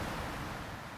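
Soft, steady wash of water lapping onto a sandy island beach, a faint continuous surf-like hiss for about a second with no other sounds.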